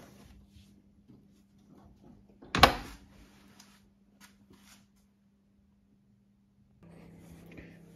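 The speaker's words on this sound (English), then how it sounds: "I can open it from the inside as well." Door lock mechanism on a 1958 Cadillac Eldorado Brougham, one sharp mechanical clunk followed by small clicks and rustling in a quiet room, with a faint electrical hum running underneath.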